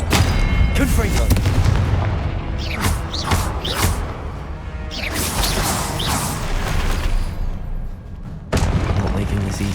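Repeated Confringo blasting-spell explosions in the Hogwarts Legacy video game, a run of sharp booming bursts with whooshing trails over constant battle noise and music, with voices shouting spells between them.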